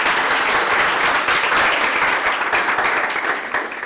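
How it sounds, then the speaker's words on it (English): A room full of people breaks into sustained, dense applause at a breakfast talk session, loud and steady throughout before thinning slightly toward the end. "Give yourself a round of applause"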